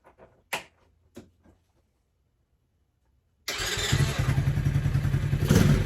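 A Tao Motor T-Force ATV engine starts after a few quiet clicks and knocks, then settles into a loud, steady idle with a dense, rumbling drone that runs to the end.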